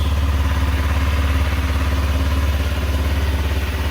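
A motorcycle engine idles nearby with a loud, steady throbbing pulse and a mechanical clatter layered over it, running alone without speech.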